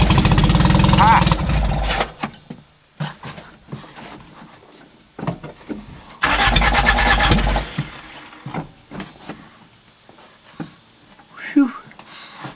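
A badly decayed 1980s Honda Prelude with no working instrument panel cranks in two loud, close bursts, and the engine catches briefly. People talk and exclaim between the attempts.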